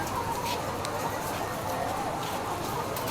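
Chickens clucking on a poultry farm during egg collection, a busy mix of close and distant clucks and bird calls over a steady background, with a voice talking faintly among them.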